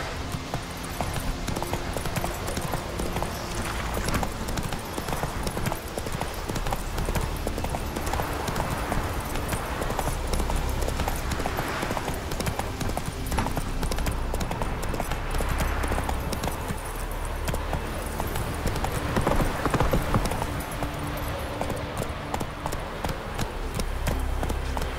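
Horse hooves galloping in The Witcher 3 video game, a steady clip-clop rhythm running throughout under continuous game ambience and music, loud and close.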